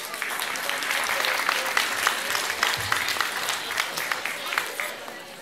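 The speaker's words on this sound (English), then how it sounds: "Let's give them a big round of applause." An audience gives sustained, even applause after Mr Groarke's third class performs the Christmas play Ralph the Reindeer, the clapping filling the room and tapering slightly at the end.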